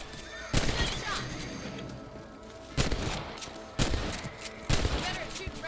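Rifle shots in the Western video game Red Dead Redemption, four sharp loud cracks spaced a second or two apart over steady outdoor game ambience.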